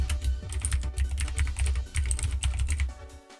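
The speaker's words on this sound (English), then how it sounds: "Sorry about the noisy keyboard." Rapid, loud clacking of a noisy computer keyboard during relaxed Amiga hardware and firmware development work, keystrokes coming in a dense, uneven stream close to the microphone with no talking.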